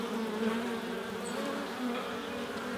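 Honey bees buzz steadily at a hive, forming a dense, continuous drone with no pauses, close and fairly loud throughout.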